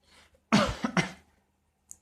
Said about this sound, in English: it's not coronavirus, it's just me coughing